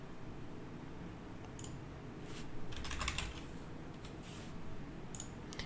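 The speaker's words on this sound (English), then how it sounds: "we're going to type the name of the parent blueprint." Quiet computer keyboard typing during work in Unreal Engine 5, with short bursts of soft key clicks over a low background hum and no talking.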